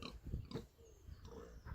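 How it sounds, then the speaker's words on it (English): Kunekune pig at an outdoor animal welfare centre area, giving several low, short grunts in uneven bursts, close by and fairly quiet with faint background noise. "So Kunekune pigs, they originate from New Zealand where they're bred and kept for food."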